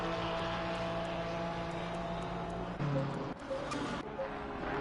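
Race cars circling Imola in Assetto Corsa Competizione, among them a Ferrari, give off a continuous layered engine drone with steady tones, a sharper surge about three seconds in, and no pause in the noise.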